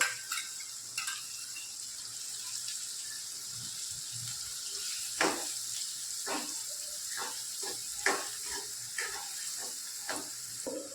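Onion tossed into a hot frying pan for pauva bateta (flattened rice with potatoes) sizzles with a steady hiss, broken by scattered scraping and clicking as it is stirred. The sizzle stays moderately loud and close throughout, with no talking.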